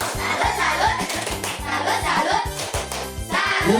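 A group, apparently in a classroom training session, performs the rhythmic Indonesian clapping chant "tepuk salut", with patterned hand claps in quick bursts alongside chanting voices, close and lively throughout.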